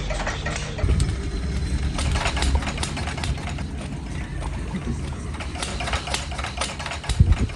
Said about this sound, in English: But the boat wouldn't start.